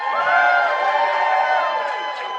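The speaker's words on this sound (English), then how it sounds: "That's the biggest cheer of the day." A large convention audience cheers and whoops at an opening ceremony, a steady roar of many voices held for a couple of seconds at fairly close range, with scattered shouts rising above it.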